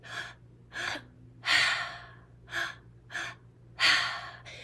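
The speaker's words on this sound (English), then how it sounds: "It's going to be a 2-part inhale and a 1-part exhale." Slow rhythmic breathing close to the mic: paired short inhales followed by a longer, heavier exhale, repeated with clear pauses between breaths.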